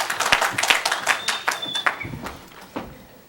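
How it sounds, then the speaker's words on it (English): Short burst of clapping from a small crowd at a city council meeting, following a unanimous vote, with scattered claps fading out. "Hold that applause."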